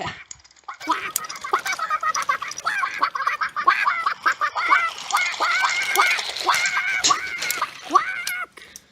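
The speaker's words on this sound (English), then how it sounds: "It was just a bunch of quacking." Cartoon duck quacks in a rapid, repeated run of nasal calls, fairly close and loud, with no talking over them.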